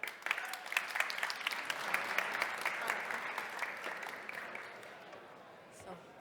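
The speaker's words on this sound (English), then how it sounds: "give a round of applause" An audience at a Ukrainian startup showcase breaks into dense applause for a presenter coming on stage, many hands clapping steadily before the sound thins and fades out.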